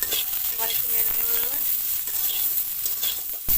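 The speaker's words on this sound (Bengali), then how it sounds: "এবার আমি প্রথমে ইঁচড়টা একটু হালকা করে ভেজে নেব।" Pieces of young jackfruit frying in hot oil for a jackfruit and prawn dish, a steady close sizzle with some stirring clatter, no talk.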